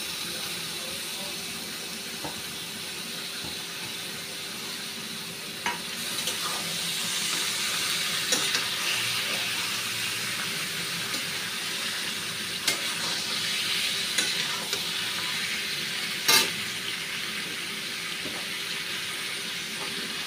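Marinated chicken fries with whole garlic in a pan for chicken curry, giving a steady low sizzle and hiss across the whole stretch, with scattered light clicks and scrapes of stirring.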